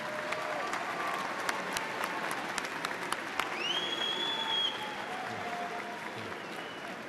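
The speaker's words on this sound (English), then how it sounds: "Let's give a big round of applause to candidates from the College of Agriculture and Life Sciences." At Virginia Tech's 2013 fall commencement, a large audience claps steadily for graduating candidates from the College of Agriculture and Life Sciences, an even wash of applause with scattered whistles and a few shouts above it.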